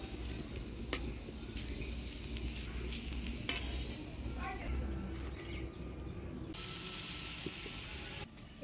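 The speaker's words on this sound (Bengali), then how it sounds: "এইভাবে একটা একটা করে পাটিজোড়াগুলো ভেজে নিব।" Patishapta pithe, rolled Bengali crêpes, fry in oil in a pan with a steady close sizzle, with scraping and stirring noises on top and some talk in the background.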